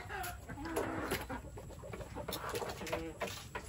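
Hens brooding on eggs cluck in short soft bursts over a busy farmyard background, with a faint voice now and then.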